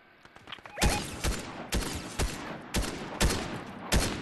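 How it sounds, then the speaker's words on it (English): Fortnite gunfire: about seven sharp, loud shots spaced in a loose rhythm, each one cracking out clearly over a quiet background. "I heard someone shooting"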